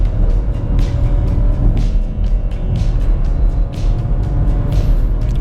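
Engine of a 2021 Chevrolet Tracker 1.0 Turbo LT automatic under full-throttle kickdown from 80 km/h in Drive, a steady low drone with road rumble heard from inside the cabin.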